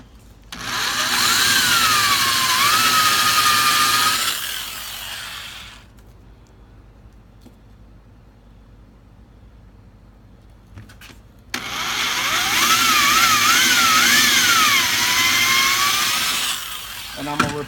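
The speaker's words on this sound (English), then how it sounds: "Now I'm drilling my holes" A power drill whines loudly through two long bursts of drilling holes in scrap wood, separated by a quiet pause, its pitch dipping as the bit bites into wood.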